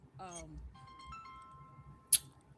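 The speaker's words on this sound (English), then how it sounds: "God, my phone keep ringing." A mobile phone rings with a short melodic chirp followed by a steady electronic tone, fairly quiet and close, ending in a sharp click.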